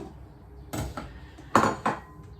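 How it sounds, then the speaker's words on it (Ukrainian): Potatoes dropped into a soup pot, a few distinct thuds and clatters spaced over a couple of seconds against a quiet kitchen background, no voice. "ось кидаю картоплю"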